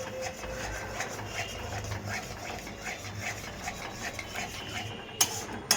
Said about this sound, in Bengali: এই টক দইটা মিশিয়ে ভালো করে লো আঁচ করে এটাকে নাড়তে থাকবে।